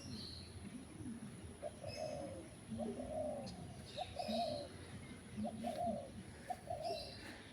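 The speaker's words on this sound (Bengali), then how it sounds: "ঘুঘু পাখি দেখো।" Spotted dove cooing on a rooftop in the morning, a soft repeated phrase of about six calls at a steady pace, faint and somewhat distant over quiet background hiss.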